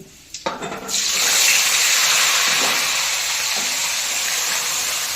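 Onion paste is being sautéed in a pan, starting with a brief clatter and then a loud, steady sizzling hiss that holds close and unbroken to the end.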